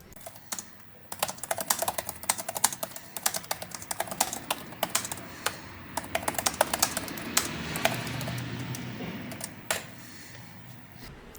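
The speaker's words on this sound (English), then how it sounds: "here's a bit of sample of the keyboard typing itself" Keys on an MSI GF65 Thin laptop are typed in quick irregular bursts, the soft plastic clicks close and fairly quiet, pausing briefly now and then before the rapid tapping resumes.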